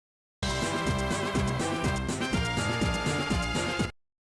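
Video game battle music from Pokémon Black and White: dense, loud, driving orchestral-synth track with pounding bass and rapid rhythmic figures, sped up, alone with no talk.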